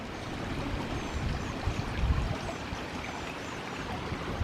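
A small stream gurgles over river rocks and pebbles, a steady, close babbling wash of water running alone with no talk over it.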